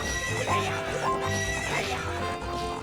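A horse in Zelda: Ocarina of Time neighs over the steady clip-clop of galloping hooves, layered with the game's tonal background music and sound effects, close and continuous with no talking.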